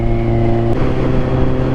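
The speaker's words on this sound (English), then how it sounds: "it sounds so much better without the baffles in" Kawasaki Z1000R motorcycle riding in sixth gear at around 60 with the exhaust baffles removed, giving a loud, steady, deep engine drone that shifts pitch slightly partway through as it continues.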